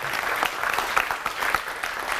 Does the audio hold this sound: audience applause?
yes